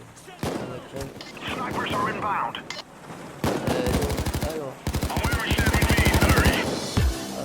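Rifle gunfire in the Payday 2 heist video game: short single shots, then sustained rapid automatic bursts of sharp cracks, loud and close over game background noise, with a voice talking intermittently.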